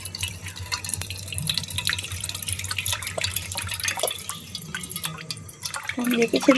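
Water trickles and drips from a freshly cracked coconut, a close, irregular splashing patter, with people talking over it.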